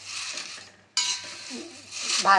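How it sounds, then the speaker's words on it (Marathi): Curry leaves dry roasting in a pan with no oil as they are stirred, giving a light crackle and scraping with brief pauses, close by and moderately loud. "तेल टाकायची काही गरज नाही आहे, कोरडाच भाजून घेऊ।"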